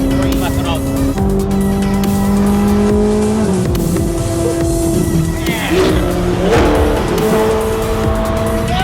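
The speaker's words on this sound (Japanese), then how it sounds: "この音はいいでしょ、この車。" A modified Ferrari kaido racer with a loud exhaust idles and revs close by in a series of rising and falling engine tones, with brief throttle blips and speech underneath.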